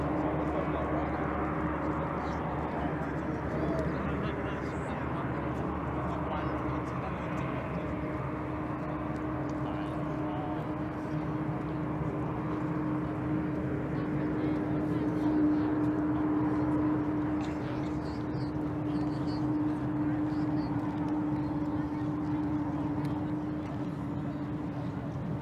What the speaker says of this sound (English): And you can hear the rumblings of some airplanes